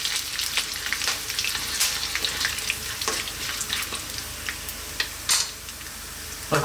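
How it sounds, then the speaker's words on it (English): Chopped onion with whole spices and dried red chili frying in a pan for a spicy Malvani chicken coconut curry, a bright close sizzle with crackling pops and occasional stirring clicks, no voices. "I've got one large onion there chopped, and that goes."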